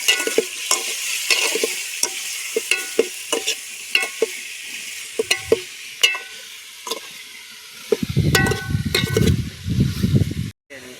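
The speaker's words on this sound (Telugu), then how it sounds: "దీన్ని జర మనం మంచిగా కలుపుకున్నాం." Chicken curry being stirred in a pot outdoors under a tamarind tree: a steady rhythm of scraping spoon strokes over a soft sizzle, then a louder burst of bubbling and frying near the end.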